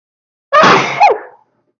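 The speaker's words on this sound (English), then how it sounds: "the sneeze coming on" A single sharp human sneeze, loud and close, a quick burst that trails off in under a second, standing alone in silence.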